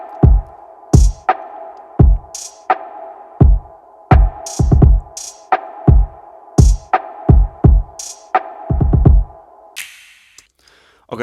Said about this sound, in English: we're gonna start off with the percussions or the drums